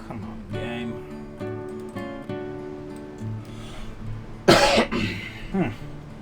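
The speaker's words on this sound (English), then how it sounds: "As you can hear, I'm still coughing." A single harsh cough bursts out near the end, followed by a couple of smaller coughs, over a background of tonal music from the naval game Ultimate Admiral Dreadnoughts.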